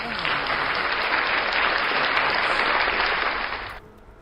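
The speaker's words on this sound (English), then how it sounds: "Let's give a quick round of applause to everybody who showed up at the stream here tonight" Applause from an audience, a dense steady burst of clapping that holds for under four seconds and then stops abruptly, leaving quiet room tone.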